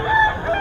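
A rooster crows briefly at a busy pet market in Bocaue, a loud, close, short tonal call rising and falling, with faint background market noise beneath.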